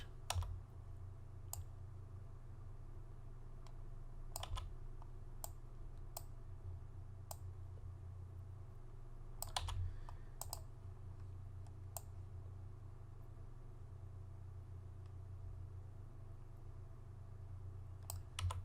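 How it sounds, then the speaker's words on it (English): A delete key pressed on a computer keyboard during image editing: scattered sharp clicks, some single and some in quick pairs, faint and close over a steady low electrical hum. "I'm just clicking delete on my keyboard after I select an area of the image."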